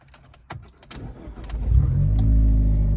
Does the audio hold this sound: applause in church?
no